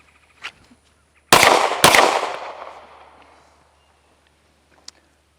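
Two sharp, loud shots from a Sig Sauer P365-FUSE pistol ring out about half a second apart, each followed by a long echoing decay, with a faint click before them and another near the end.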